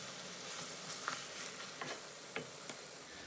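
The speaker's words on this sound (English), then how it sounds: "I'm going to cook it for a further 2 more minutes" Pigeon curry simmers in a pan over a low gas flame with a soft, steady sizzle, broken by a few faint ticks and pops, with no talk.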